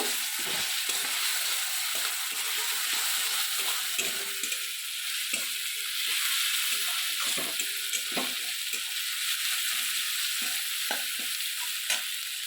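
Garlic paste fries in a pan with a steady, bright sizzle, close and continuous, while a utensil scrapes and stirs in irregular knocks throughout, with no one talking.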